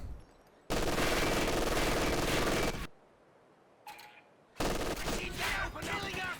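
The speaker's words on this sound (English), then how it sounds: "Machine gun locking down the cutoff pretty well" Machine gun fire in the strategy game Company of Heroes 2, loud sustained bursts in two long stretches with a short quieter gap and a brief blip between them, alone without talk.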